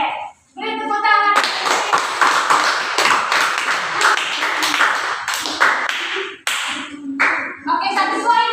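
A small group, likely in a classroom, breaks into sharp, close clapping that runs for about five seconds with a distinct rhythmic patter, then stops abruptly. A voice speaks briefly before and after the clapping.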